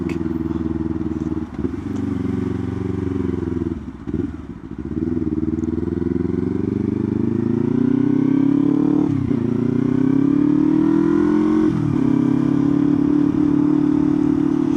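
A motorcycle cruising along a road, its engine droning steadily close by with rising and falling pitch as it shifts gears and accelerates, plus wind buffeting throughout.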